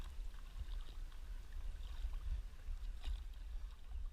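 Paddle strokes in water from a small boat beside a sailing boat at night, soft splashes and swishes repeating over a steady low rumble of water and wind.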